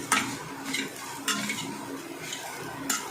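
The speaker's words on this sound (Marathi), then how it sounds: "हे व्यवस्थित परतून घ्यायचं आहे तुपामध्ये।" Grated coconut sautéed in ghee for coconut barfi: a spoon stirs and scrapes against the pan in close, repeated strokes over a soft sizzle.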